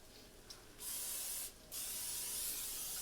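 Cooking oil spray hisses onto a hot pan for frying latkes in two steady bursts, each lasting close to a second, separated by a short pause, loud and close with no talking.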